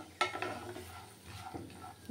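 Gujiya frying in ghee in a pan, a soft steady sizzle with a few sharp clinks of a utensil against the pan near the start.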